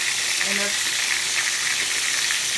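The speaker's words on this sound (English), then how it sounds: "So I'm gonna take my steak and I'm gonna throw it down in this pan" A porterhouse steak marinated in Worcestershire sauce, salt and black pepper sears in a pan over high heat, giving a loud, steady, close sizzle and hiss throughout, with a faint voice briefly underneath.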